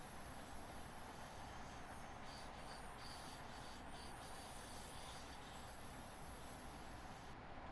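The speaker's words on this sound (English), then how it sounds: "I'm just letting the train coast down to a slower speed now." A train coasting down to a slower speed on the East Coast Main Line south near Alexandra Palace, a steady broadband rolling rumble with a thin high-pitched wheel squeal running throughout, loud and continuous with no talk.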